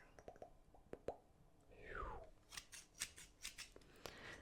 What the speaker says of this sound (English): enough hair cutting, enough wooden scissors sound